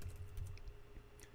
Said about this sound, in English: I'm going to type in my site